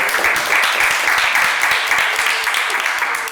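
An audience claps steadily at a women's empowerment award presentation, a dense, sustained wash of applause from many hands that holds at an even level throughout.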